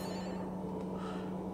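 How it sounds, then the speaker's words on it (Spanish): A telephone rings in the Fobia: St. Dinfna Hotel horror game, a faint steady electronic ring held against a quiet background. "Suena un teléfono."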